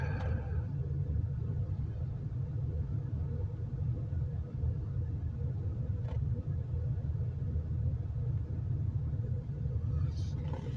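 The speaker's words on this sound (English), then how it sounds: "And the car running too makes the camera shake too" A parked car's engine idles steadily in a low, continuous rumble close to the microphone, unchanging for the whole stretch, with a faint click midway and a brief tick near the end.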